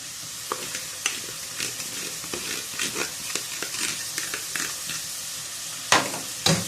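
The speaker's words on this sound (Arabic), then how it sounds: "بعد ما شوحت البصله شويه مع القوانص بتاعتي، هنزل بالفريك." Freekeh stir-frying in a pan with onion and chicken gizzards, a close sizzle punctuated by repeated spoon scrapes and stirring clatters, no talking.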